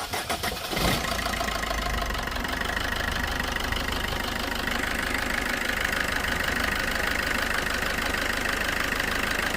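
A used local car for sale starts its engine with a brief crank, then settles into a steady, loud, close idle that runs on evenly with no talk.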